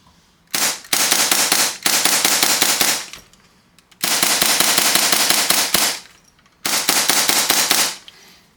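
A Novritsch SSP5 Hi-Capa airsoft pistol fires in three rapid bursts of sharp, evenly spaced cracks, each string lasting one to two seconds, with short pauses between them.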